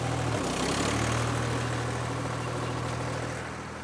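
A sand screener's engine runs steadily at about quarter throttle at a sand and topsoil pit, a loud continuous low idle-like drone that holds level throughout and eases slightly at the end, with no talk.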